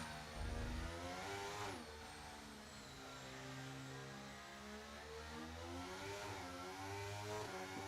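Loud onboard racing car engine from a McLaren in a sim racing league race, a steady high-pitched drone that rises and falls with gear changes and throttle, continuous throughout and close to the camera.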